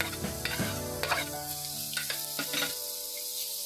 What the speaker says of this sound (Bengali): মাছটা দিয়ে ভালো করে মশলার সাথে মিশিয়ে ভাজা ভাজা করে নেব।